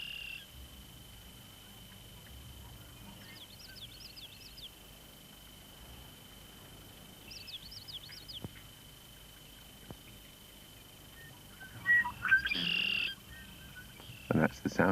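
Faint, squeaky red-winged blackbird calls repeat a few times over a steady outdoor hum, followed by louder, brighter chirps near the end.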